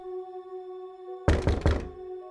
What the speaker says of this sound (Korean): 밖에서 또다시 노크 소리가 들려왔습니다.